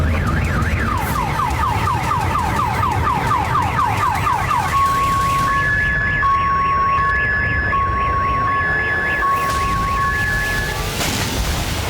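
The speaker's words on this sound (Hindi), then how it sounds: "धमाका इतना तेज था कि वहां खड़ी गाड़ियों के सिक्योरिटी अलार्म बजने लग गए।" Parked car security alarms, set off by a powerful explosion, blare in a loud, repeating warble, then shift to steady alternating beeps, continuous and close with no voices.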